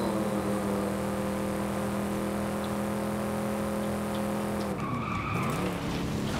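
A car skids in Forza Horizon 5, with a long, loud, steady tire squeal over engine noise, then a sudden crash that cuts the squeal off, followed by scraping noise.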